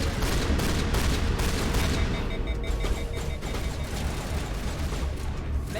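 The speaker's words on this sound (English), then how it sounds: "It's the first time I've got to use the semi-auto shotty and I love it." A semi-automatic shotgun firing in Mass Effect, a dense stream of heavy booming blasts and impacts mixed with other combat gunfire, loud and continuous throughout.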